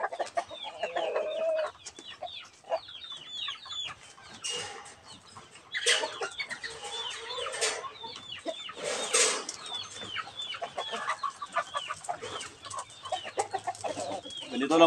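Small hen and roosters clucking during manual breeding, a mix of near clucks and short calls from chickens, scattered irregularly over background farmyard noise with faint distant bird calls.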